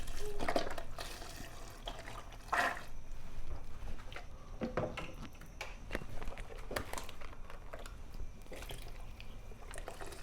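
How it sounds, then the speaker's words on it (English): Vegetable broth poured into a soup pot of vegan pozole, giving a steady liquid splashing and gurgling with a few clinks of metal pots and pans, close and fairly loud throughout with no talk. "And then we're also going to add 8 cups of vegetable broth."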